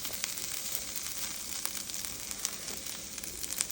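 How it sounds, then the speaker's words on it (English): Diced pre-boiled potatoes frying in a pan, a steady close sizzle and crackle with occasional sharper pops, with no talking. "We're frying up the potatoes, getting them nice and golden brown."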